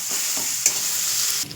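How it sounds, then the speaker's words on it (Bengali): Tarka spice masala with egg sizzles in a pan while it is stirred. The hiss is steady and close, with one brief scrape of the spoon midway, and no one speaks. "এটা দিয়ে ভালো করে নেড়ে চেড়ে আমি কষিয়ে নেব"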